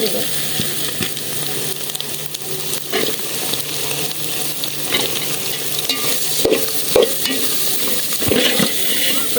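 Potatoes sizzle in hot oil in a pan while a utensil stirs and scrapes them, a continuous loud frying hiss with intermittent clinks and scrapes, no talking.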